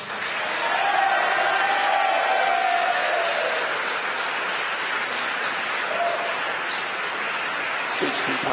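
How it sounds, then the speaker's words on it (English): Cheering at a Falcon 9 first stage landing on a drone ship sits in the background as a faint, washed-out crowd roar under a steady hiss of noise, with a brief voice near the end. "you can tell by the cheering in the background"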